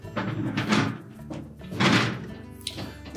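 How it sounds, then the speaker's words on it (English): A Whirlpool dishwasher is pushed back into kitchen cabinets, giving two or three heavy close thunks and scraping bumps in quick succession. "We can now push the dishwasher back into the cabinets."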